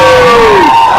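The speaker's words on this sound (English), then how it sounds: "Look, that's the biggest cheer that I've had." A crowd at a rugby league footy show at a venue in Toowoomba cheers and whoops loudly and close, one voice rising in a long yell above the sustained roar.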